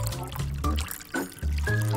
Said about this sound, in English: I'll just fill it up with water right to the edge.